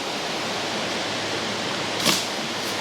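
A river flows behind a woodland wild campsite, giving a steady broadband rush with no talking and a short sharp swish about two-thirds of the way through.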